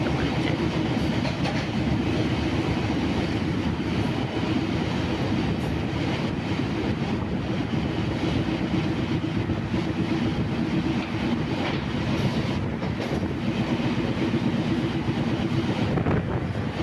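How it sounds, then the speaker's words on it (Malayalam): A MEMU passenger train running on Indian rails between Kollam and Kottayam, heard from inside as a continuous loud rumble with rhythmic clickety-clack and wind noise, no talk. "തിരക്കൊഴിഞ്ഞൊരു മെമു ട്രെയിൻ യാത്ര"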